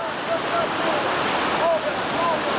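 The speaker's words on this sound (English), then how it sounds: "just in time to catch Johnny Hartman bebopping his way into the reactionary waves" Whitewater rapids churn on the New River in West Virginia during a rafting run, a loud continuous rush of surf with wind buffeting the microphone and faint high calls rising over it.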